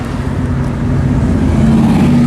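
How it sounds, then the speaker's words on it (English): A C10 truck's engine idles and rumbles steadily close by at the Hot Rod Power Tour, a low, even drone with a faint rise in level partway through. "Big fan of that C10 truck."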